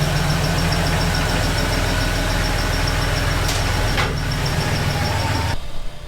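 Jeep Cherokee XJ engine running at a steady idle, a close, constant low mechanical hum with faint ticking, then cutting away abruptly near the end.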